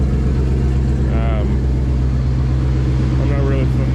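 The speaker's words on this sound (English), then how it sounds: "I'm gonna have to talk louder just because this truck is loud" Steady, loud idle drone of a Dodge V10 engine in a mini monster truck build, a constant low rumble with someone talking over it.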